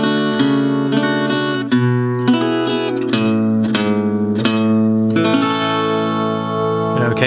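Guitar plays the ending riff of a song, a steady stream of strummed chords and picked notes, close and even in level, with no voices.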